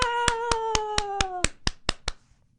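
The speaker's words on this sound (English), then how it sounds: "Can we clap for ourselves for doing such a wonderful job?" Children clap together in a classroom lesson: about ten sharp, evenly spaced claps, close and loud, over a sustained sung tone that fades midway. The last few claps fall more loosely before silence.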